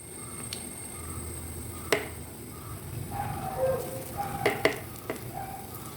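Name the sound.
unniyappam batter poured into hot oil and ghee, sizzling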